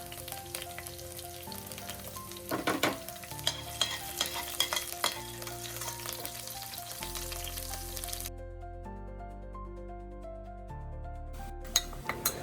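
Green chillies fry in oil in a kadhai, giving a steady sizzle while a utensil stirs and clinks against the pan throughout, with no one talking.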